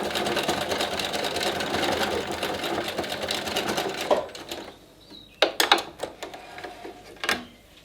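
A sewing machine stitches back and forth to secure the seam of a homemade face mask, whirring loudly for about four seconds, then stopping and giving way to a few short bursts and clicks nearby.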